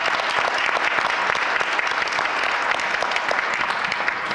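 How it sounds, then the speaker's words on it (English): An audience at a mayor's book club event on public safety gives sustained applause for a department director, a thick, continuous wash of many clapping hands at a steady, fairly loud level with no speech over it. "Let's give her a round of applause."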